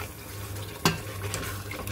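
A spoon scrapes once against a pot of mutton curry with potatoes, a sharp close clatter over a low steady simmer and sizzle.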